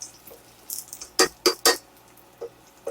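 Garlic cloves being stirred in a pan for a zucchini and shrimp stir fry: a few sharp clinks and scrapes of a utensil against the pan, three close strikes in quick succession, then two softer ones, with no talking.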